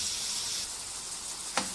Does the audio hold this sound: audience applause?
no